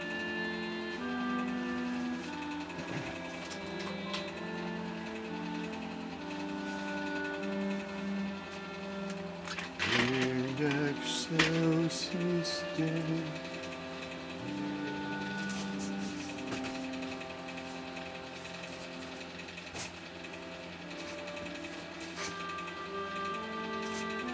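A 1925 Singer 128 sewing machine stitches two layers of 100% cotton quilting fabric, a steady close mechanical whir and clatter running throughout with a brief louder burst midway.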